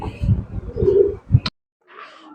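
Soft, low pigeon coos repeat over about a second and a half, then a brief pause before faint rustling.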